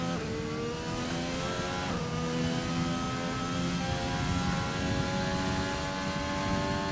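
A Formula 1 car on a qualifying lap in F1 2020 at the Spanish Grand Prix, its engine holding a steady high whine that climbs through the gears, loud and continuous with no talk over it.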